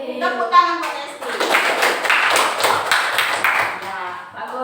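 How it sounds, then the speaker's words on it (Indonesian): Classroom applause for a student, a short burst of children clapping that swells after a teacher's voice and fades, with talking heard before and after. "Tepuk tangan buat Hesti."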